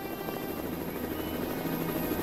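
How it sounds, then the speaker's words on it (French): A helicopter roars steadily overhead, a loud continuous rotor and engine drone with no pause and no voices over it, in a cartoon chase set near a forest. "Aïe, un hélicoptère maintenant!"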